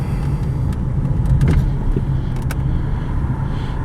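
A 1986 Volvo 240 (244DL) driving on a test drive, its steady low engine and road rumble continuous and close, with a few faint interior clicks and taps above it and no talking.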